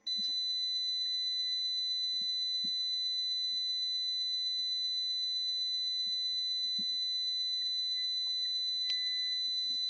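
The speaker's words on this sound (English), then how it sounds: "there's a tone, but it's very, very quiet" A steady, thin electronic buzzer tone holds unbroken throughout, faint and high-pitched, with small clicks and rustles underneath and no voices.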